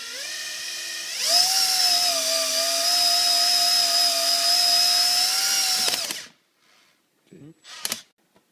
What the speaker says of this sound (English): Now we're going to use this drill here to create a hole for this metal handle